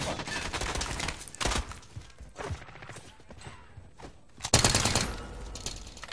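Gunfire in a shooting video game against pirates, rapid bursts of automatic shots and fusillades in dense, uneven clusters with a louder volley near the end, mixed with mechanical clatter.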